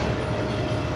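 A moving train on a Pakistani railway, the Fareed Express between Walton and Kasur, gives a steady, close rumble of wheels and carriage noise with no clear clickety-clack beats, continuous and alone.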